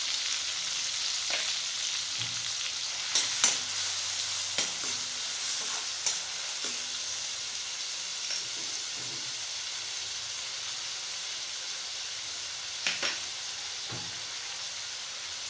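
Chopped onion frying in a pan for street-style pav bhaji, a steady broad sizzle throughout with occasional scraping stirs and clinks of a spoon, close and moderately loud, no talking.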